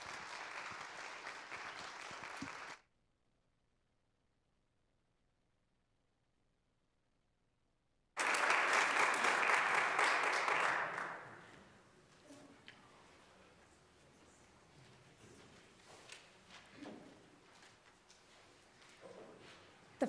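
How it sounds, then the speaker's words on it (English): An audience applauds a handbell choir at a concert, loud clapping at the start, a brief cut to silence, then a fresh strong burst of applause that thins out to scattered claps. "Big round of applause for the EKCO Ringers."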